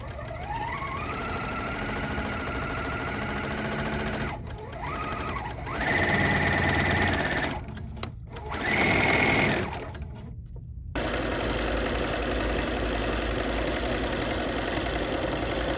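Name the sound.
serger sewing around bridal veil edge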